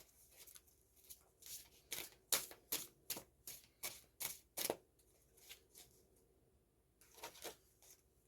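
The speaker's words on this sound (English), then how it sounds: "These cards are a little bit too big for my hands, so I have to shuffle them kind of awkward." Oversized tarot cards are shuffled by hand, making a quiet series of crisp riffling bursts with short pauses between them and a final pair of shuffles after a gap.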